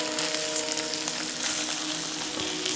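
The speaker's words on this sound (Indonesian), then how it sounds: "Dan sekarang aku akan tambahkan air." Chicken pieces fry in a pan with spices for opor ayam kuning made with instant seasoning as water goes in, giving a steady, loud, close sizzle and crackle with no voices.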